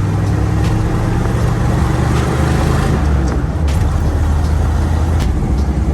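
A 1976 Jeep Wrangler CJ7 drives along with a loud, steady low engine drone and road rumble inside the cab, plus occasional faint clicks and rattles; no talk.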